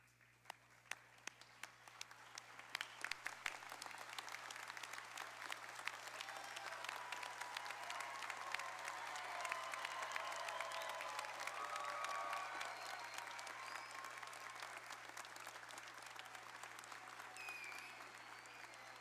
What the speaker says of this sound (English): if everyone would please stand for a final round of applause for our graduates